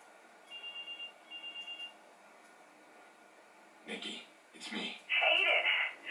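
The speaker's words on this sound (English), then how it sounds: "Right after an explosion, then the phone begins to ring." A phone rings inside the Watch Dogs video game: a few short electronic ring bursts sound early, then louder bursts of sound later, with a voice breaking in briefly.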